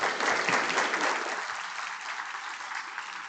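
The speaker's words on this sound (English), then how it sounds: "Let's give Libby and Marion a round of applause" Audience applause after a lunchtime history talk, a dense round of clapping from a seated crowd that is loud at first and gradually thins out over a few seconds.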